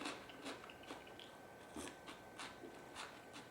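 Someone crunches and chews a crunchy snack in a series of sharp, brittle bites at a steady pace, close to the microphone, with no talking.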